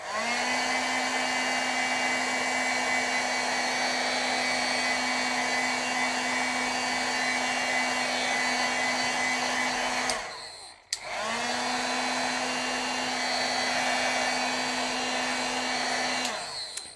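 A heat tool blasts hot air over wet stamping ink on paper, a loud steady whirring drone with a high whine that cuts off briefly midway and then starts up again, running on without any talk.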